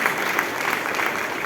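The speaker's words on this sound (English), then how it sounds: "Give him a thunderous round of applause." Steady applause from an audience at a corporate partner conference in India, dense and even throughout with no pauses, filling the hall at moderate loudness.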